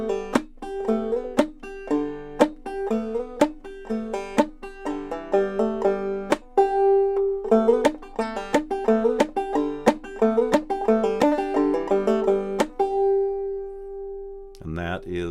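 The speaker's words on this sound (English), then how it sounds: "And that is palm muting." Clawhammer banjo played with palm muting, giving short damped plucked notes and muted brush strokes in a steady rhythmic pattern, close and alone, with one held ringing note near the end.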